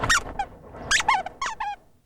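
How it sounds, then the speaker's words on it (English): A fuzzy squeaky dog toy, the reward for search dogs working a South Phoenix rubble pile, squeaks in a few sharp, high bursts, close and loud, with no one talking. "A fuzzy, squeaky toy."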